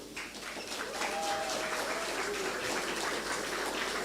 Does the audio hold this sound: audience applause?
yes